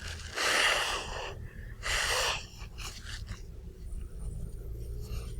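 Two forceful, breathy nose blows close by, followed by softer sniffing and shuffling.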